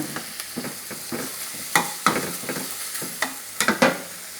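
Pork sizzling and crackling in a pan, with a steady fry hiss and irregular clatters of stirring, fairly close and with no talking.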